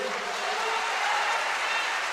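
A church congregation breaks into applause: a brief, dense burst of clapping from many hands, fairly loud and filling the room.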